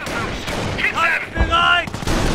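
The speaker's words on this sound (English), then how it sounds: "Enemy fire!" Gunfire from Company of Heroes, the WWII strategy game set during Operation Market Garden, with sharp shots and bursts cutting through shouted unit voice lines and tonal game sounds over a short stretch.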